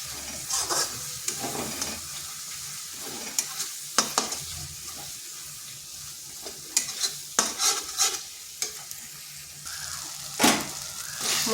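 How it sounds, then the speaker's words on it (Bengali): Masala of coriander, cumin and chilli powder frying in a pan, a steady close sizzle with repeated spoon scrapes and clinks against the pan's metal, no talking. "দিয়ে দিচ্ছি ধনে গুঁড়ো, জিরে গুঁড়ো আর দিচ্ছি লঙ্কার গুঁড়ো। এরপর ভালোভাবে মশলাটা কষে নিচ্ছি।"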